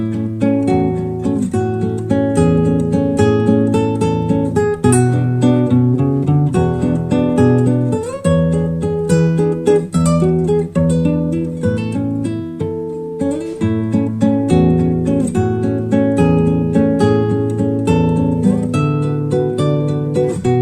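A solo classical guitar plays the piece behind the Nokia ringtone, a continuous, lively melody with plucked notes and chords, close and clear, with no talking.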